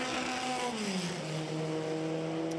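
A historic race car at Le Mans Classic sweeps through the final chicane, a loud engine note falling in pitch as it brakes and then climbing again as it powers away, with nothing else in the mix.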